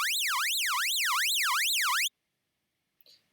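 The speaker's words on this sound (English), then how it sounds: "you get this sort of old school siren type sound" A siren-like FM lead synth patch for dark psytrance built in Serum sweeps up and down in a fast, regular wail for about two seconds and then stops abruptly. A faint short noise follows after a pause.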